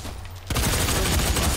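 Rapid automatic assault-rifle fire in the DOOM beta multiplayer bursts in after a short pause, a loud, dense stream of shots that runs to the end.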